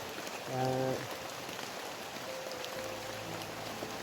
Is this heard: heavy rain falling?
yes